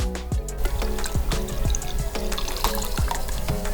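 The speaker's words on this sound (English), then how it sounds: "We rinsed everything thoroughly." Running water rinses lab equipment used to filter a gold-laced acid sludge extracted from scrap electronics, a loud, close, steady splashing stream with repeated glugging, gurgling pulses.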